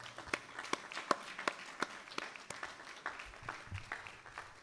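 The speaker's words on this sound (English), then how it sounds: "give the council a hand of applause" Sparse, faint applause from an audience at a city candidates forum, honoring the council, with a handful of distinct hand claps spaced irregularly and a quiet background.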